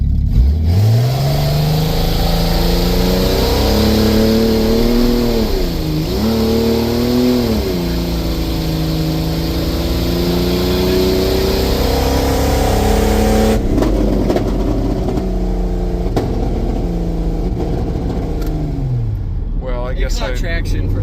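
A 1989 Jeep Comanche's 4.6-liter engine revs up loudly and falls back in repeated sweeping pulls, close and dominant, with a voice faintly underneath.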